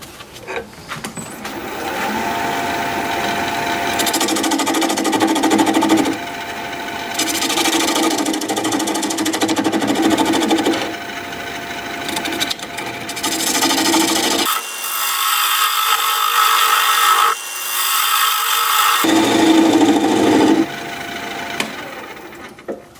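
A wood lathe turns a curly maple piece while a tool flattens the bottom, producing a continuous rasping, scraping whir that shifts in tone as the cut is lifted and reapplied several times, loud and close.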